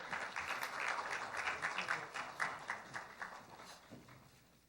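Congratulatory applause from an award ceremony audience, a steady wash of many hands clapping at moderate distance that holds for several seconds, then slowly thins and fades toward the end.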